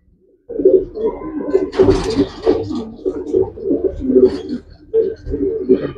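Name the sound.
pigeons cooing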